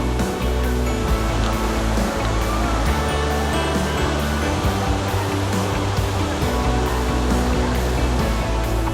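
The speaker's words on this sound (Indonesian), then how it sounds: "itu air terjun dari depan kita ngalir ke" A mini waterfall on a mountainside in Krueng Kaleung, Lamno, Aceh Jaya, pours steadily close by, its broad continuous rush of falling water filling the scene without pause or voices.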